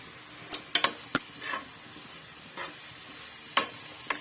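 Soy sauce goes into hot ghee with a faint, low sizzle, broken by sharp spoon taps and scraping stirs spaced unevenly, loud and close, with no voices.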